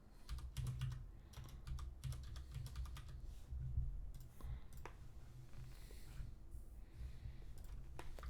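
Keys tapped on a calculator keypad while entering values into a normal CDF function for a statistics problem, a fairly steady run of soft, quick clicks with brief pauses, close and quiet, with no talking.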